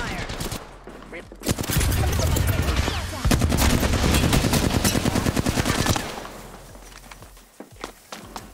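Automatic weapon fire in the Apex Legends battle royale game: short opening shots, then a dense, loud sustained burst of rapid gunfire mixed with footsteps and faint voices, tapering to scattered shots and movement.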